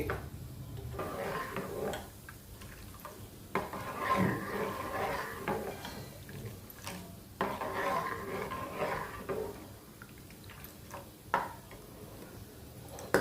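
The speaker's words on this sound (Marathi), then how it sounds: "तर आता मी व्यवस्थित असं ढवळून घेते" A spoon scrapes and clinks around a pot of Maharashtrian buttermilk kadhi thickened with a little besan, in irregular bursts of stirring with soft knocks against the metal, close and moderately loud.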